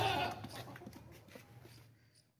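A Makhi Cheeni goat bleats loudly at the start, the cry trailing off over a couple of seconds amid farmyard noise, with faint voices nearby.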